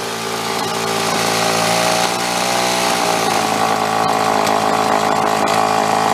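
A John Deere chainsaw engine running steadily during carburetor idle adjustment, a loud, close, continuous buzzing drone that rises slightly in pitch partway through, with no talking.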